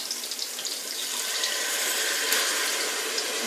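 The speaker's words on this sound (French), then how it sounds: "donc on va rajouter maintenant de l'eau." Water pours steadily into a cooking pot of tomato-based chicken meatball curry sauce, a continuous broadband splashing rush that holds at a fairly even level throughout with no voices.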